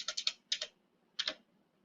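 Keys on a computer keyboard are tapped as a phone number is entered into blood bank software, two quick crisp bursts of several clicks each separated by a short pause, close and clear with no talking.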